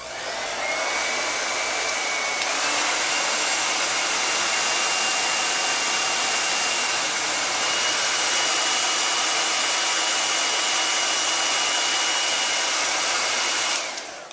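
A hair dryer blows steadily and loudly for about fourteen seconds, drying chalk paste, with a constant rushing whine and no talking.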